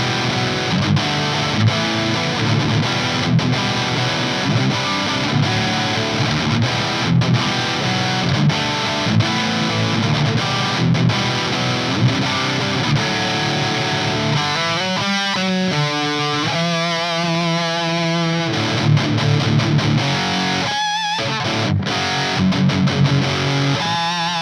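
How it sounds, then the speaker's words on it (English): Loud high-gain distorted guitar through a Hughes & Kettner TriAmp Mark 3 with the stomp boost engaged: dense saturated riffing, then a stretch of tight palm-muted chugs and brief pauses before heavy chords return. "John recommended channel 2B with the gain on max and with the boost engaged"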